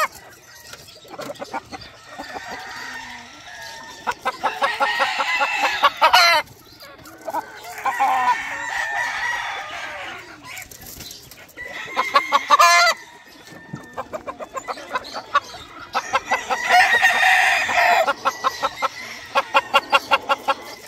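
Farmyard roosters and hens, kept as breeding pairs, crow in long repeated calls near and loud, with bursts of clucking between them and faint talk in the background.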